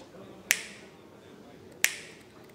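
A supervisor at the office snaps his fingers from behind to get attention: two bright, dry snaps spaced over a second apart, near and distinct against a quiet background.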